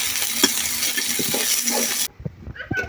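Chopped onion, green chili and garlic crackle and hiss loudly in hot oil for about two seconds, then the sizzle cuts off abruptly, leaving a few light clinks and clatters of utensils.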